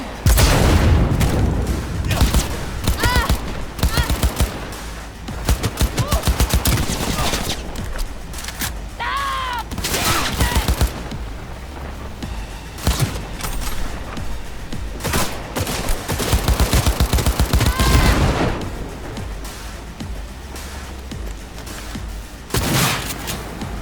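Loud, dense gunfire in Cyberpunk 2077: rapid bursts and heavy booming shots crowd one another over about twenty seconds, with a few brief gaps. Shouted voices are mixed into the combat.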